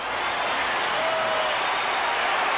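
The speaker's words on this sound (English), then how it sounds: "Giant fans just cheer" Giants fans in a baseball crowd cheer and applaud, a steady, dense roar that holds at the same loud level throughout.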